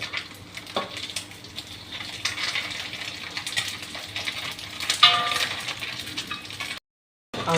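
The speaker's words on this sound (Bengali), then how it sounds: "আমাদের মাছ ভাজা ওকে হয়ে গেছে" Small watery fish sizzle and spatter steadily in hot oil in a pan, with occasional metallic clinks of a utensil against it and a brief silent gap near the end.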